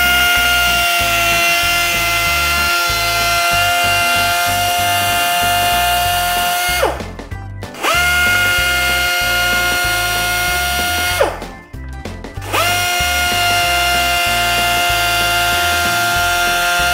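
A power tool whines steadily as it cuts a decorative groove into a guitar neck, a loud continuous tonal buzz that cuts out briefly twice and then resumes at the same pitch.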